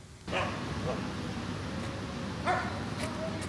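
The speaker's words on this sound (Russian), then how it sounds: "Услышать лай собак в Парке Победы до сегодняшнего дня можно было часто." Stray dogs bark and yip in a city park, in short scattered calls at a moderate distance over steady background noise and traffic-like hum.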